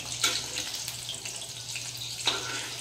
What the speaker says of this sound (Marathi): असे खरपूस असे आपण तळून घेऊया